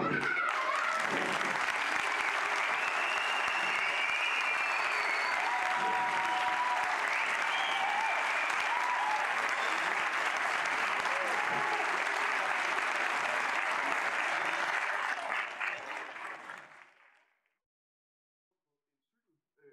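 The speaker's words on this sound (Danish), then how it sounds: "så husk lige at klappe" Sustained, dense applause from a science show audience following an explosion, loud and steady for about fifteen seconds before fading quickly into silence.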